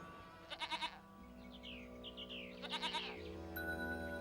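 Goats and cows in a film scene, with bursts of bleating over a musical score and a bright ringing tone near the end.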